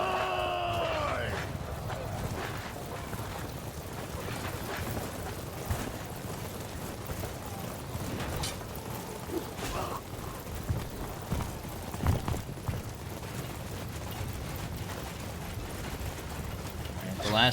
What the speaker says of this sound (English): These catapults are still a firing.